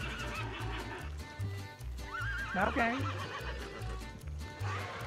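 A horse in a video game gives a clear, wavering whinny midway through, over steady rhythmic clip-clop hoofbeats, with people talking around it.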